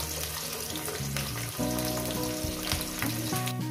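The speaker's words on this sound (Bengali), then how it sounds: "পেঁয়াজটাকে আমি ভেজে নিয়েছি" Chopped onion frying in a pan for mutton curry, a steady close sizzle with a low tonal hum running underneath throughout, no voices.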